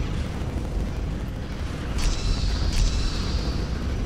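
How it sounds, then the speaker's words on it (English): A nuke detonating in the Battlestar Galactica space strategy game, a deep, sustained rumbling roar that swells slightly midway, with a couple of brief high metallic whines on top. "you, my friend, are sending that nuke straight into my guys"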